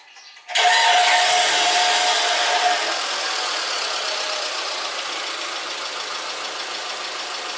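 A 2006 Mitsubishi Outlander engine, just repaired after a timing belt and bent valves job, cranks and catches abruptly, flaring loudly before settling into a steady, close idle that holds to the end.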